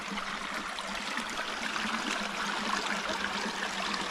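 Creek water flows in a steady, broad rushing babble, close and continuous with no voices.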